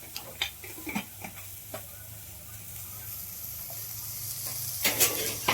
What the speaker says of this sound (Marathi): कांदे लवकर भाजले जातात